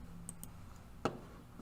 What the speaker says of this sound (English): We're going to click the new button.